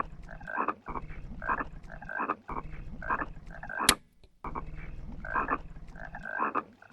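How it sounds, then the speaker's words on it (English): American bullfrogs (Rana catesbeiana) croaking at York Pit, a series of deep, throaty, repeated calls in a steady pulsing rhythm, fairly close and loud, with a short pause midway. "It's the sound of a Rana catasbayana in its natural habitat."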